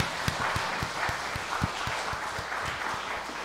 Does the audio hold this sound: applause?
yes